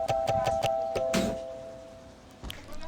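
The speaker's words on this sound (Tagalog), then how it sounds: "Dami namang doorbell." A doorbell rings with a quick series of bright repeated chimes, then a single lower tone, followed by a soft knock and a quiet pause.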